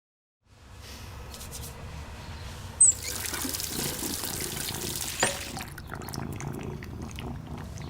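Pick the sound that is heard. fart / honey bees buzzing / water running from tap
water running from tap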